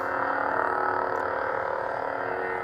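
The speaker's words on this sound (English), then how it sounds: "you can see that this is an unstable blade effect" An unstable lightsaber blade effect from a Revan H-Pixel replica saber hums loud and continuous, a dense crackling buzz with no breaks and no voices.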